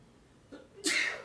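A single sharp sneeze bursts out close by during a casual chat at a live press briefing, preceded by a short inhale in a quiet room.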